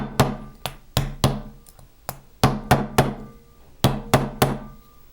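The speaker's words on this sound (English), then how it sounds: "using my 1-pound brass hammer, I'm going to just tap" A 1-pound brass hammer taps metal on a dapping block in sharp, ringing strikes, about a dozen in uneven clusters of two or three, close and moderately loud with brief metallic decay.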